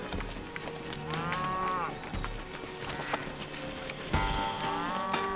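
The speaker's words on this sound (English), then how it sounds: "Cattle are herded down from the mountain meadows to return to the barns for the winter" Cattle low repeatedly, several moos rising and falling in overlapping calls, as a herd is driven down from mountain meadows toward winter barns, with a busy background of hooves and other farm sounds.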